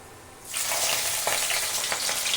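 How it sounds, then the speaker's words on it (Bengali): Potatoes frying in hot oil burst into a loud, close crackling sizzle after a quiet moment, sustained with bubbling pops, no voices. "এখানে আলুগুলো ভাজা হচ্ছে"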